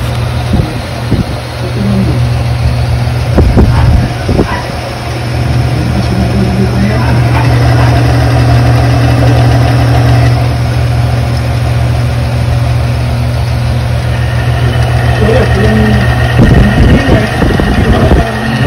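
A K1 lubricity test machine runs with Dr.Lube Dyna engine oil, giving a steady, loud low motor drone with a constant hum throughout, with some clattering knocks and brief rising whines layered on top.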